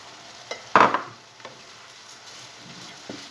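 Rice for riz du Senyoret stirred in a pan: one sharp scrape and rustle of grains, then quieter, scattered clicks of the utensil against the pan.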